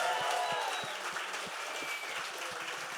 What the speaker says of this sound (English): big round of applause to Lee Johnson